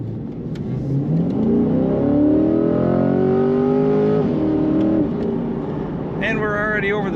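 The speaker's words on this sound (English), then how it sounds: "Awesome exhaust note coming out the tailpipe." A 2024 Chevrolet Corvette Stingray accelerates on a highway with its exhaust note rising through the gears: a loud, climbing engine roar with clear upshifts, then a short, higher whine near the end.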